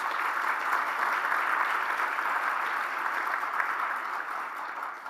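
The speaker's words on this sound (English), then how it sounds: "Let's again give them all a great round of applause." Audience at an award ceremony applauding the event's supporters, a dense sustained round of clapping from a large crowd, loud and steady throughout with no talk.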